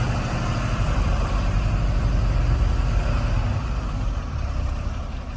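A fully loaded truck climbs uphill in C gear, its engine giving a loud, steady low drone that stays constant with no voices.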